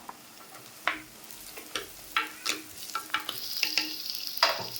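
Onion, potato, carrot and beans sauté in a pan for rice kichadi, giving a soft steady sizzle broken by repeated sharp scrapes and clinks of a spoon stirring, close and fairly quiet.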